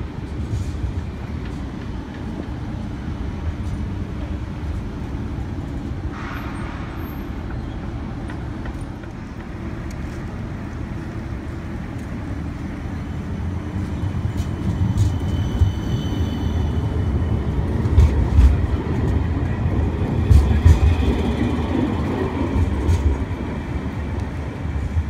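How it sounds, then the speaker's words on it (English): Sydney unit 2116, a light rail vehicle on a Central service, rolls into Paddy's Markets with a low, steady rumble that slowly grows louder. Scattered clicks and knocks sound over the top, and no one speaks. "we have a central service arriving into Paddy's Markets. It is unit 2116"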